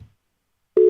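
A telephone tone on an outgoing call, a single steady electronic beep that starts abruptly after near silence, clear and loud with no voices.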